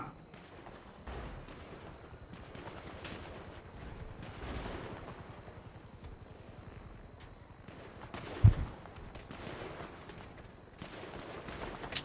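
Gunfire from a Thai shooting video game, with scattered shots of moderate loudness and one sharper, louder crack near the end, all set against steady game background noise.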